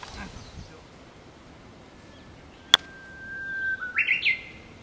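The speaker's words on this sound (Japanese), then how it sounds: "ウグイスが鳴いたけどね。" A Japanese bush warbler sings on a golf course, a few bright whistled notes with a rising trill that come in toward the end over quiet open-air background, after a single sharp click.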